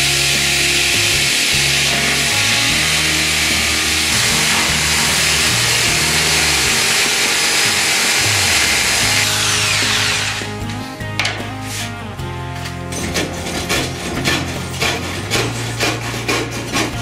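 Power saw cutting 10 mm plywood pieces for a home-built catamaran hull, a loud steady whining cut for about ten seconds, then slower rhythmic rasping strokes.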